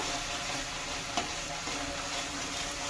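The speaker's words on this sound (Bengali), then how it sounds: "এবার সুন্দর করে মশলা কষিয়ে নেব।" Spice masala with chilli powder cooking down in oil, giving a soft continuous sizzle with faint stirring scrapes, quiet and close, no voices.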